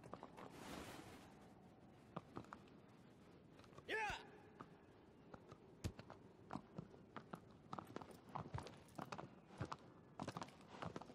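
Horse hooves clip-clopping in the video game Shadow of the Colossus: faint, irregular hoof knocks at a walking pace, with a brief snort or whinny partway through.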